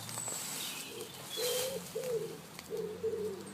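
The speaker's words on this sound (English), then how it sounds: "that's my wood pigeon" A wood pigeon coos outdoors in a soft, low, rhythmic phrase of three hooting notes, heard at moderate distance over faint background hiss.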